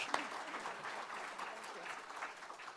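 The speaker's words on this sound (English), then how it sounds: "Let's give a round of applause to President Adesina" Dense, steady applause from a conference audience for President Adesina at an African agriculture event, continuous and fairly close, with voices mixed in.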